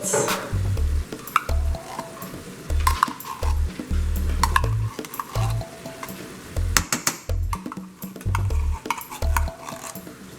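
Tomatoes and tomato paste are stirred in a pan over heat, giving repeated scraping strokes and clinks of a utensil against the pan over a low sizzle, close and rhythmic, with no talking.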